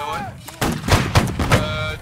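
Cannon fire in a battle video game: three heavy booming shots land in quick succession, loud and close, with faint voices nearby.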